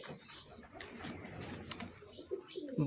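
Pigeons coo softly in a quiet indoor setting, a few low, throaty murmurs rising toward the end over faint background hiss.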